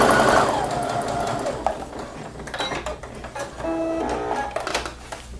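A sewing machine runs straight stitches with a steady whirring hum that is loud and close. Short mechanical clicks and rattles of the needle and feed come through as the stitching continues.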